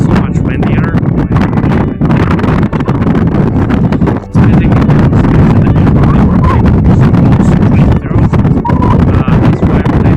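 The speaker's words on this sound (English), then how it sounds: "Getting so much windier." Strong wind buffets the microphone at Churchill, Manitoba on the Hudson Bay, a loud, continuous roar with gusty surges and one brief lull.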